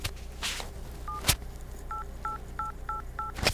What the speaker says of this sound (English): what I used to do is actually dial numbers on the keypad